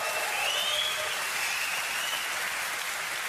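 A TV talk show studio audience fills the room with continuous, dense applause, a broad rushing wash of clapping that holds steady throughout with no break.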